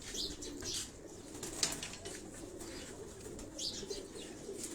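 Trained pigeons in a cage on a Karachi rooftop, their soft cooing and low murmurs carrying at a distance, with faint chirps and brief wing flutters mixed in.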